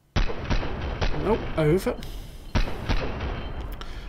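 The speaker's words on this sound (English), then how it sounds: "Get some good shots down on him." Gunshots in PUBG on the fog map, two sharp loud reports each followed by a decaying echo tail, with someone talking between them.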